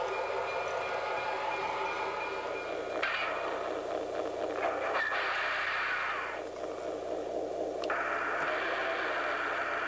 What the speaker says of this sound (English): our diesel version of Proto-sounds contains actual diesel recordings, as well as optional sounds like radio transmissions between engineers and dispatchers.